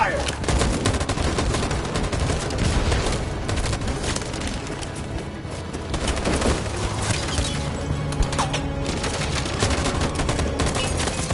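Sustained gunfire in the video game Detroit: Become Human, dense rapid bursts and volleys crackling without pause, loud and close, with heavy booming hits layered through the barrage.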